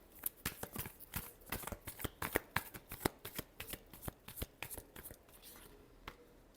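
Tarot cards being shuffled by hand, a quick run of crisp riffling snaps and soft slaps in an uneven rhythm, close and fairly quiet, tapering off toward the end.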